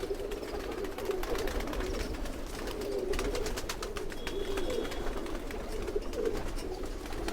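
Pigeons coo in a low, soft, continuous murmur, with several birds overlapping nearby against faint background noise and occasional rustling.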